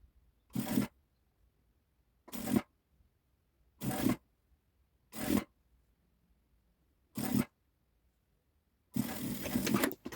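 A sewing machine stitches down the folded seam ends of an overlocked fabric strip for a capped-sleeve puletasi top, running in five short bursts of about half a second each, then a longer run of stitching at the end, close and clear.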